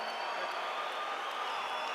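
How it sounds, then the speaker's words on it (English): Crowd applause and cheering for the UFC heavyweight champion Tim Sylvia at a mixed martial arts event, a steady dense wash of clapping and distant whoops filling the whole two seconds. "How about a big round of applause, gentlemen, for the UFC heavyweight champion, Tim Sylvia."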